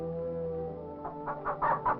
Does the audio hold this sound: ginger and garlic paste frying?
no